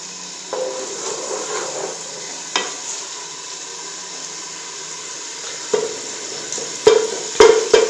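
Tomato and other ingredients for masar chawal frying in a pan, a soft steady sizzle with occasional sharp scraping stirs that grow louder toward the end.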